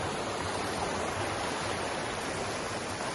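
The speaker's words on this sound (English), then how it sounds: "Beautiful river." Steady broadband rush of a river flowing below Little Zigzag Falls in winter, continuous and fairly loud with no break or voices.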